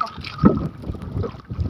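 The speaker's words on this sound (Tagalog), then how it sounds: "palakas sa palakas yung hangin tsaka yung alon" Strong wind buffets the microphone over waves and water on an island beach at low tide, a steady rushing roar with gusty swells and no voices.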